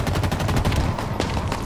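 Rapid automatic gunfire in the Halo video game crackles loud and close, with bursts of overlapping shots and no talking.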